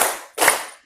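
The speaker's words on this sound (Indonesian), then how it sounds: "Tepuk 1, tepuk 2, tepuk 3" Two sharp, close hand claps, one right after the other, each with a short decaying ring, performed as part of a classroom counting and clapping icebreaker game.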